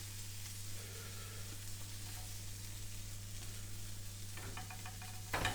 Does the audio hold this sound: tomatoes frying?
yes